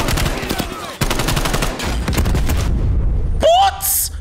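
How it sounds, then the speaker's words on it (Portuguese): Loud gunfire bursts and booming blasts in Call of Duty Black Ops Cold War, with a barrel exploding nearby amid the chaotic firefight, followed by a high whooshing sweep near the end; a voice shouts over it. "O cara explodiu o barril na minha frente, mano"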